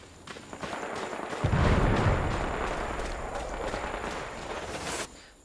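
Enemy mortar fire in Sniper Ghost Warrior Contracts 2 lands as a deep, rumbling blast that swells and rolls on for several seconds before cutting off, loud and close.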